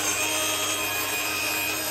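Steady rasping of a handsaw cutting wood strips for a caravan repair, a continuous scratchy stroke with a bright hiss, fairly close and without any talk.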